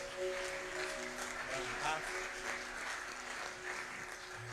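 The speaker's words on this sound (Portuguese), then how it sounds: "Você pode aplaudir o Senhor?" A church congregation applauds during a celebration service. The clapping is faint and steady, with a sustained musical tone and some voices underneath.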